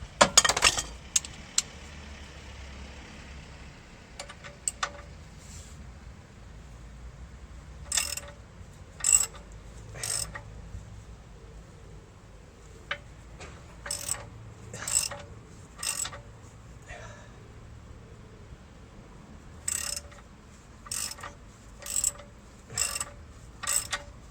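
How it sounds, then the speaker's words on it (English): Ratchet wrench turning a knuckle bush bolt on a Range Rover L322 rear suspension, a series of sharp clicking bursts in uneven groups, close and distinct against a quiet workshop background. "I'll get the ratchet back on it"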